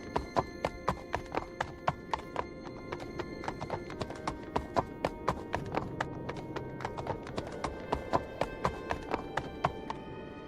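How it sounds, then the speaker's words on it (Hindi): Horses carry riders away from a temple setting, their hoofbeats sounding as a steady, fairly close clip-clop that keeps a regular rhythm throughout. A brief whinny may rise under the hooves, and no voices are heard. "इतना बोल के वो दोनों अपने घोड़े पे सवार हो जाते हैं और वापस जाने लगते हैं।"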